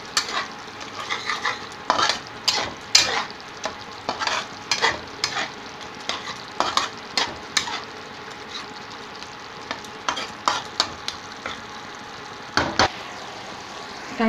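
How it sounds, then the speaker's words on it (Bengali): Tomato puree stirred in a hot pan for a tangra fish curry, frequent scraping strokes of a spatula against the pan over a continuous sizzle, close and without talk. "এবার এটাকে একটু নেড়ে নিলাম।"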